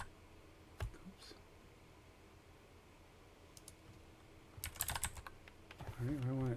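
Computer keyboard typing, faint clicks early on, then a dense burst of quick keystrokes near the end along with a brief hum, recorded close and quiet.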